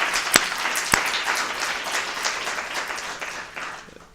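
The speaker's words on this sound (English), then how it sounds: "let's give ourselves a round of applause" Closing-session audience of students applauds after group presentations, a dense patter of many hands clapping at moderate distance with a few sharp nearby claps, slowly tapering off toward the end.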